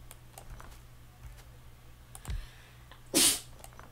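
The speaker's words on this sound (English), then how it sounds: "I'm sneezing a lot more than normal." A single short sneeze bursts out near the end, loud and close, after a few soft keyboard clicks in an otherwise quiet room.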